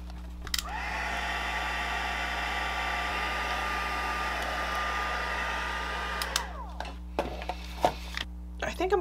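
A heat tool blows hot air to melt clear embossing powder on a handmade card, a loud steady whirring roar lasting several seconds before it switches off, followed by light clicks and handling sounds.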